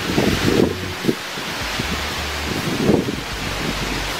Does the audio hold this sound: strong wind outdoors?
yes